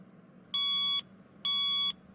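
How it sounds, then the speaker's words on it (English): An alarm clock sound effect in a Plotagon animation gives two sustained electronic beeps, each about half a second long, separated by a short pause and heard alone over faint background hum. "Oh, that's my alarm clock."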